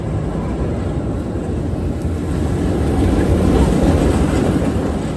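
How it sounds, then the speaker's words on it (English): Bat, an inverted suspended roller coaster at Kings Island, roaring along its track with a steady rumbling rush and wind noise, loud and close for the whole stretch. "Next up, we're gonna do another coaster that hangs under the track"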